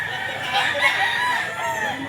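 A Cuban hennie rooster crows once at a pet market, a drawn-out harmonic call from fairly close, with faint clucking and farmyard background.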